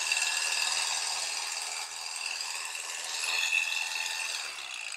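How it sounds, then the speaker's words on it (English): An electric hair clipper runs after its blade is sprayed with disinfectant, giving a close, steady, high-pitched whirring buzz that wavers slightly for a few seconds, with no talking. "we're letting it run so we can have enough time for the disinfectant to work its way through the clipper"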